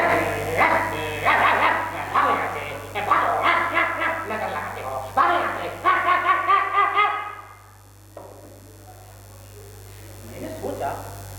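A house dog barks at stray street dogs in repeated close bursts over several seconds, then quiets, with a few fainter yips near the end.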